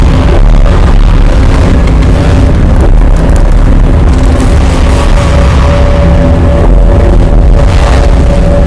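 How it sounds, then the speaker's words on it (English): Sonified gravitational waves of a light black hole falling into a much heavier one make a loud, dense, rumbling roar that stays steady throughout. "The sound you're hearing is a light black hole banging on space each time it gets close."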